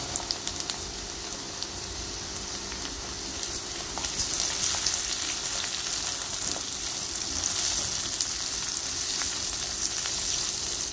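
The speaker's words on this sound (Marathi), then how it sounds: "आता कांदा थोडा लाल व्हायला लागला की आपण त्यामध्ये टोमॅटो बारीक चिरून टाकूया।" Onion and finely chopped tomato frying in a pan for egg rice, giving a steady close hiss and crackle of sizzling that grows slightly louder partway through, with no talking.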